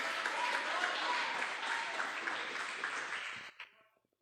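A church congregation applauds in a steady, dense wash of clapping that fills the space, then cuts off sharply near the end, leaving a few faint stray sounds.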